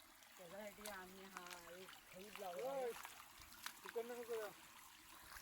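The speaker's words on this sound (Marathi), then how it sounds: "इथून खाली पाणी जातोय पायपातून खाली पाणी जातोय" Water trickles down through a pipe in the Konkan countryside, a faint continuous flow that sits under someone talking nearby.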